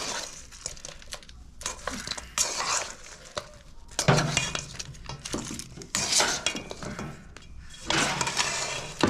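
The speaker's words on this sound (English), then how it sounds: "Now we're gonna give that a little stir shake." Chicken wings tossed and stirred in a bowl for peanut butter and jelly wings, giving irregular clinks and scraping rattles in bursts, fairly close, with no talk.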